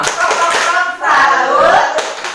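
A group of mothers at a PKH community session performs a "tepuk salut" routine, with rhythmic hand claps and chanted voices together in a short, loud, close burst.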